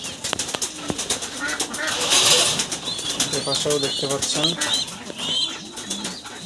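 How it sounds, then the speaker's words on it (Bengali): Pigeons in a loft, including male birds, coo softly and flap their wings in bursts while someone talks over them. "এখানে একটা নর কবুতর, এখানে আর একটা নর কবুতর"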